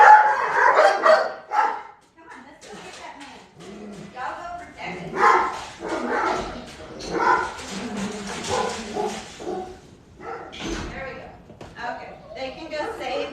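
Several dogs bark and yip in short, sharp bursts indoors during a training session, with some whimpering. A person talks over and between the barks.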